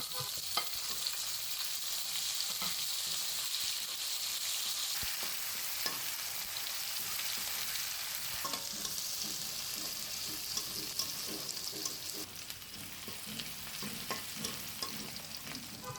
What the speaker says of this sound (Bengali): রসুনটা একটু ভাজার পরে রসুন ও শুকনো মরিচের একটি সুন্দর ফ্লেভার ছড়ালে পেঁয়াজ কুচি দিয়ে দিলাম